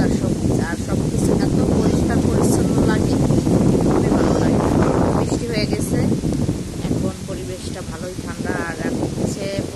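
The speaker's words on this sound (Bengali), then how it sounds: "প্রচুর বাতাস হচ্ছে" Strong wind after the monsoon rains, gusting hard and loud as a roaring buffet on the microphone with rustling foliage, while a person talks over it.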